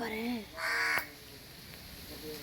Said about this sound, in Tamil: ரெண்டு காக்கா உட்கார்ந்திருக்குப்பா